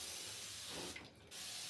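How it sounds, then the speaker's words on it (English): A steady hiss of a spray bottle misting water onto hair and scalp, broken by a brief pause, then the spray resumes close up. "so I'm gonna spray my hair one last time"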